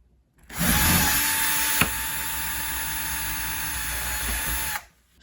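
A powered screwdriver whirs steadily while backing screws out of a doorknob, one continuous close whine lasting a few seconds with a brief click partway through, then it stops.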